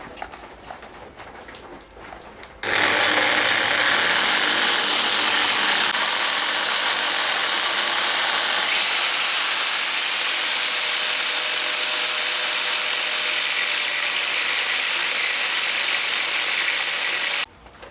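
Angle grinder fitted with a thin slitting disc cutting a clamped steel armour rivet for a bascinet hinge, a loud continuous high-pitched whine that starts abruptly, holds steady for about fifteen seconds, then cuts off, with no talking.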